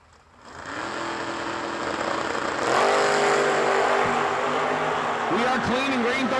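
Drag racing cars launch side by side at a New Year Nationals event, one a wheelstanding Vega, their loud engines rising into a sustained roar with revving and gear changes, and an announcer's voice running over the noise.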